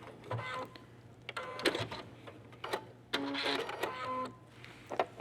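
A sewing machine stitching a seam on a mitered corner, stopping a quarter inch from the raw edge and reversing, in short whirring bursts separated by pauses, close and moderately loud.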